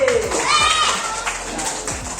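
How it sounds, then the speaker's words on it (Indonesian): A class of third-grade children claps hands together in a busy classroom, with rhythmic bursts of clapping mixed with children's voices and chatter throughout. "tepuk tangan lagi"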